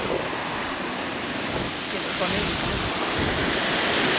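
A strong wind blows at the seashore during a fishing competition, giving a loud, constant roar of wind buffeting the microphone over the rushing wash of surf.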